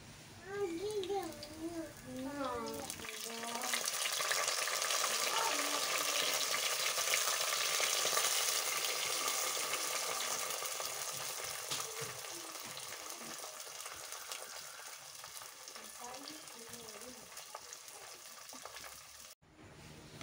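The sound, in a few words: mustard seeds, green chilli and ginger frying in coconut oil in clay pot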